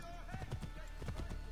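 Horse hooves clip-clop in Assassin's Creed 3, a steady, close rhythmic run of hoofbeats with faint background game sound and no clear speech.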